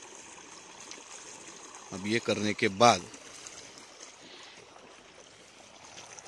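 Water flows steadily along an irrigation channel in a sugarcane field, a low continuous wash running beneath a man's brief speech in the middle.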